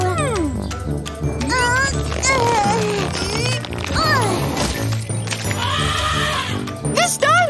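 A cartoon horse in a kids' color-matching show whinnies with rising, wavering squeals, sounding loud and close over bright background music and lively character chatter.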